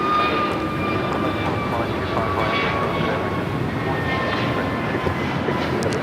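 A steady, loud jet rumble from an American Airlines Airbus A321neo at Los Angeles LAX, bound for Dallas Fort Worth, droning continuously with a faint high whine and soft voices in the background.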